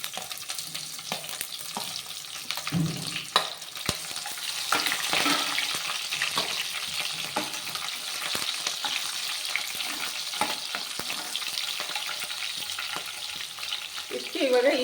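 Green chillies drop into hot oil with curry leaves and fry in a steady soft sizzle, with occasional spoon scrapes and small clinks against the pan, continuous throughout, no voices.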